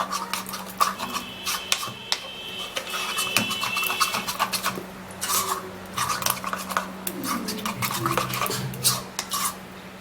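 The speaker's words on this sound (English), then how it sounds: "We're going to stir and mix and mix and mix." A homemade face mask mixture is stirred in a small bowl, making close, irregular scraping and clinking strokes in bursts, with a steady low hum underneath and no talk.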